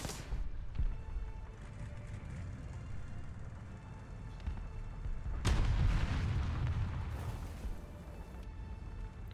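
A tank destroyer cannon fires in War Thunder: one sharp boom cuts through a low, rumbling game soundscape, fairly faint overall.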